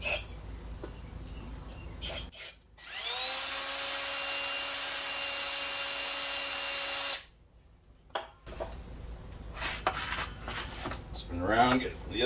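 Plastic-bristle gun-cleaning style brush worked with brake clean through the valve guides of a cylinder head for a Sleeper S10: a sustained spray-like hiss with a steady whine for several seconds, with softer scrubbing and handling noises before and after.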